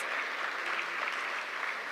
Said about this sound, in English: please give all 116 recipients a round of applause